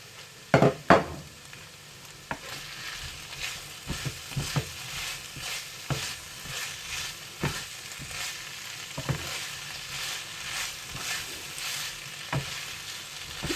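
Spring onion stir-frying with chicken in a pan, a constant sizzle broken by repeated scraping stirs and a few clatters of the utensil against the pan, close and clear with no talk.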